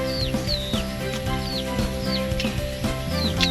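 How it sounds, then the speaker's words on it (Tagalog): Chickens cluck and peep repeatedly nearby over a continuous background hum, with high chirping calls recurring every half second or so. "Samok mga manok."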